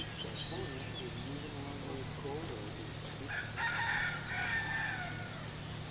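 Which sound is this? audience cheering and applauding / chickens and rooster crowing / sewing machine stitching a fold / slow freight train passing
chickens and rooster crowing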